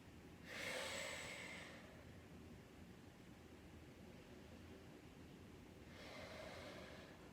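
During a gentle yoga stretch, a person takes slow, deep breaths: a soft, close airy inhale or exhale swells near the start, then after a quiet gap a second, fainter breath follows.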